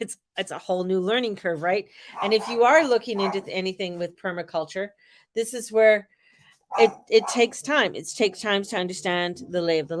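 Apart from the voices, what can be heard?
No everyday noises stand out.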